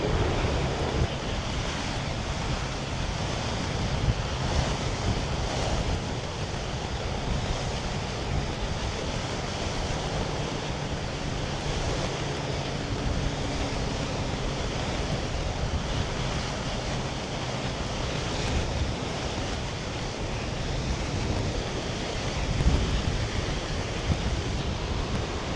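Ocean waves at low tide on the beach at Imperial Beach, California: a steady, broad roar of surf with wind rushing across the microphone, continuous with no talking.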